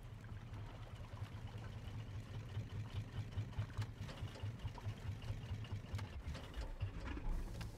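Biofuel boat motors running steadily in the survival game Raft, a low mechanical chug that keeps a regular pulsing rhythm throughout, fairly quiet and with no talk.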